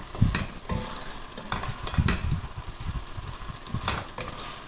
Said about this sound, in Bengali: মাছের মাথা আমি ভালো করে ভেজে নিয়েছি